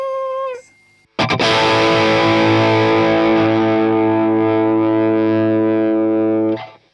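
Electric guitar on a Hartwood Deytona II through an SD1 overdrive into a Marshall amp: a short bent note, then one loud overdriven chord struck hard and left to ring for several seconds before being muted.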